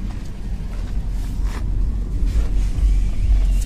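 A 2008 Range Rover idles steadily, its low engine rumble constant and close throughout with no voices over it.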